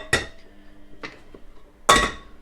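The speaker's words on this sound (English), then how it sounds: "Get a frying pan." Metallic clanks of a frying pan being set down and moved, three distinct knocks with a louder final one, close and with no voices.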